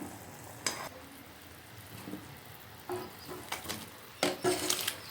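Cooked moong dal going into a pan and being stirred for a sweet halwa, with scattered spoon scrapes and clinks against the pan over a faint sizzle, growing busier toward the end.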